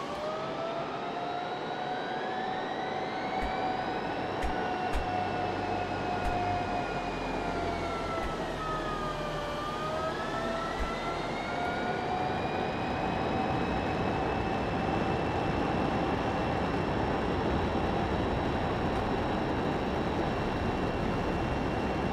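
A simulated airplane engine roars steadily at full throttle in Microsoft Flight Simulator, its whining tones sliding down and back up midway through a constant, moderately faint drone.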